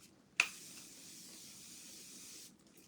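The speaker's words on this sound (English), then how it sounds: "I take my Unique setting spray" Makeup setting spray misted onto a face: a sharp pump click followed by a steady, soft hiss lasting about two seconds, close and quiet, then stopping abruptly.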